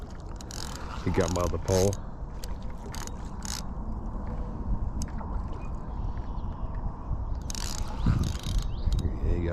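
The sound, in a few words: fishing reel drag clicking as a carp pulls line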